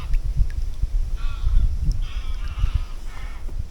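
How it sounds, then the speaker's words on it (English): Geese honk in scattered calls over loud, rumbling wind or water noise, somewhat distant. "There's a lot of geese."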